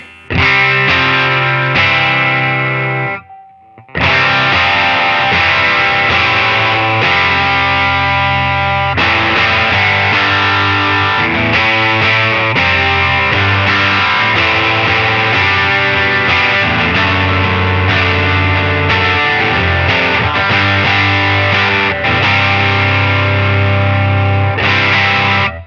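Electric guitar driven through a Klon overdrive model on a Line 6 Helix into AC30 dual cabs, playing a full, continuous crunchy chord-and-riff passage with one brief pause near the start, loud and up front with no talking.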